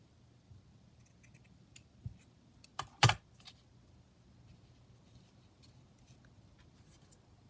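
Scissors trimming lace for a craft tag make a few soft, scattered snips and one sharper, louder cut in a quiet room.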